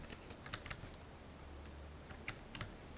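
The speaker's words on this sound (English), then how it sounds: "now I had a cat on the keyboard" A cat walking across a computer keyboard, producing scattered soft key clicks and taps in irregular bursts, close and fairly faint over a low steady hum.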